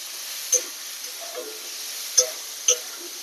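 Seeded banana sautéing with salt and turmeric in a pan, a quiet steady sizzle broken by a few sharp clinks of a spoon stirring against the pan.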